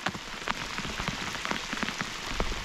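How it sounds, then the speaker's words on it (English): Steady rain patters on surfaces at a lakeside fishing spot in Larry's Bay, Matahina, New Zealand, a dense, even hiss of drops with scattered louder taps, no voices present. "Oh, I like fishing in the rain, eh, Larry?"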